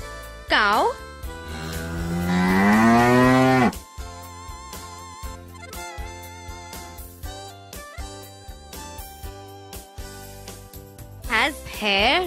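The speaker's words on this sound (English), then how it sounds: "Cow." A cow gives one long, loud, close moo that swells and falls, followed by light music with plucked notes and a short child-like voice near the end.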